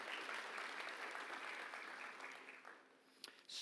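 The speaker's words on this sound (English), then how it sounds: "So a big round of applause to the Wood Foundation who continue to fund us." An audience at a startup showcase applauds warmly, steady dense clapping that fades out near the end before a few stray claps.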